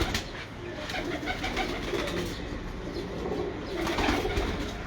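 Pigeons in a fancier's loft coo repeatedly at close range, the soft throaty calls overlapping in a busy, continuous backdrop.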